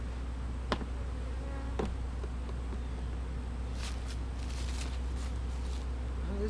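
Bees hum and buzz around an abandoned hive being opened, a steady low drone with individual bees passing close now and then, and no one speaking.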